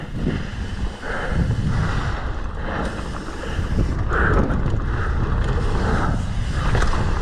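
Wind gusts across an open golf course, a loud rushing buffet against the microphone that swells and eases in waves with no talking.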